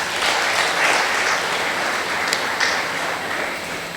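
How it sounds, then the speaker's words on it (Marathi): An audience claps for the women at a Marathi spiritual talk, a steady dense patter of many hands throughout, fairly loud and continuous with no voices over it. "एकदा सर्व महिलांसाठी आपण टाळ्या वाजवूयात"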